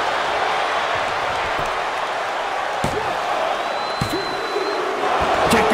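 In a WWE 2K23 wrestling match, an arena crowd roars in a continuous wash of cheering, with occasional thuds and slams cutting through and a commentator-style voice talking over it.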